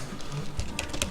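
Keys tapped in a quick run on a computer keyboard while entering an AutoCAD mirror command, ending with a sharper Enter press; close, light clicks with no talk.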